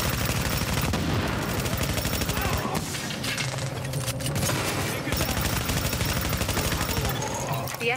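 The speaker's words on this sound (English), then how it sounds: "Escort party's taking heavy fire from the roof." Heavy automatic gunfire rattles from The Division video game in a solo mission, with dense, rapid bursts of shots continuing almost without pause, loud and close, alongside a brief lull and layered in-game effects.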